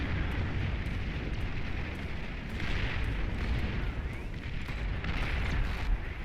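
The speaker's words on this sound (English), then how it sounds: "Oh, the EMP. Great EMP. Everything is stunned." An EMP blast goes off in the strategy video game Beyond All Reason, a dense rumbling roar of explosions that fills the whole stretch with repeated booming bursts, and no one speaks.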